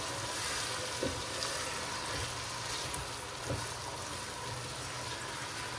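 Tomatoes, onions and garlic fry in a pan of oil, giving a continuous close sizzle with a few soft knocks of a utensil, no voices.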